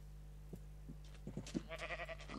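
A Minecraft sheep bleats a few short, wavering times, faint and close, over a low steady hum.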